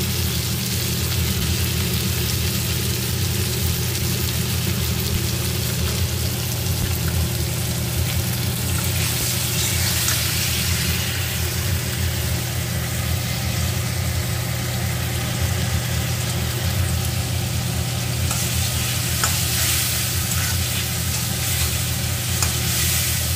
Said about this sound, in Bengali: এইভাবে কিছুক্ষণ একটু নাড়াচাড়া করব